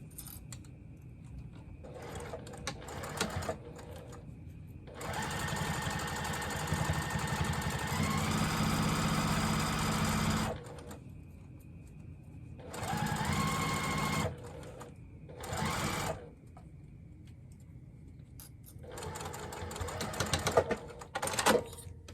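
A sewing machine stitches a fabric wristlet strap in several sustained runs of rapid mechanical whirring, separated by quiet pauses and small clicks of handling.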